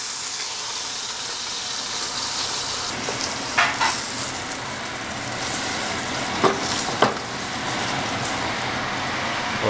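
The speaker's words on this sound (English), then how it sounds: "So you're going to try and also sear the edges" A sous vide New York strip steak sears on its edges in a skillet, giving a loud continuous sizzle with occasional sharp pops and spatters, no voices present.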